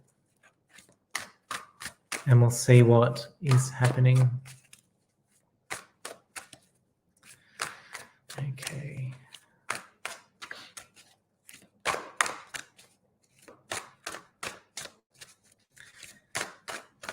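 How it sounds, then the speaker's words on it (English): Playing cards being shuffled during a live tarot-style reading: a steady run of sharp, dry clicks and soft riffles spread across the clip, with someone talking intermittently over them. "I'm just giving our cards a big shuffle"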